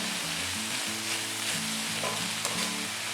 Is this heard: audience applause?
no